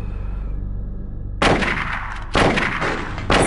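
Gunfire in the PlayStation video game Silent Hill: three loud, close shots at roughly one-second intervals, each a sharp blast with a short decaying tail, following a low steady hum.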